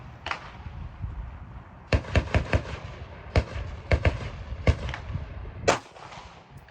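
Glock 48 pistol fired at targets 200 yards away on an outdoor range, several sharp shots, some in quick bursts of three or four, with gaps and faint background noise between.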